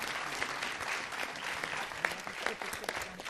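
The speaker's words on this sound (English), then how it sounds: "Give him a nice round of applause." Audience applause fills a city council meeting chamber, a steady dense patter of many hands clapping at moderate loudness with a few sharper claps standing out, no talking over it.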